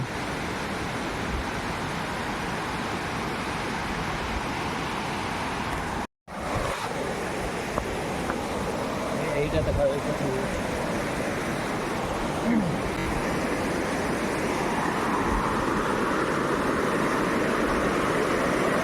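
Devkund waterfall roars as a steady, loud wash of rushing water heard close by, continuous broadband noise with a brief dropout partway through.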